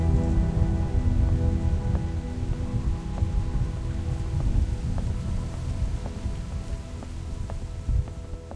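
Steady rain falls in The Walking Dead video game, a dense continuous patter on surfaces with low rumbling thunder rolling beneath it and faint periodic clicks throughout.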